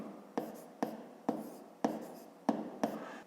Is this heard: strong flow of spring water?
no